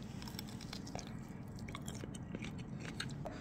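Fresh shrimp is bitten and chewed close up, giving quiet repeated crunches over a soft, steady background hiss with no talking.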